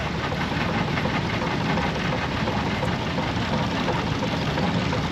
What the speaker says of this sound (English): This is a 75 horsepower traction, steam traction engine.